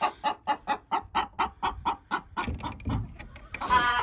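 Farm chickens cluck in a quick, steady run of close, evenly spaced calls, growing rougher midway and ending in a louder squawk.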